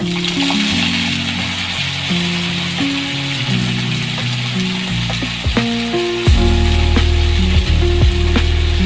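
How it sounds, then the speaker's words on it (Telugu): Coriander and mint leaves fry in a little oil with a loud, steady sizzle, and a spatula scrapes and stirs now and then, growing busier toward the end. "కొద్దిగా ఆయిల్ పోసుకొని కొత్తిమీర ఇంకా పుదీనా రెండు వేయించుకోవాలి"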